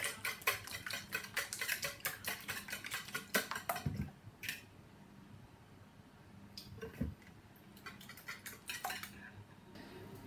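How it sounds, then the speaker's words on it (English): Eight eggs with salt, pepper and coriander are whisked in a bowl, producing rapid, rhythmic metallic clicks and taps of the whisk against the bowl that pause briefly midway, then continue in quicker bursts. "And then we need to give that a good whisk."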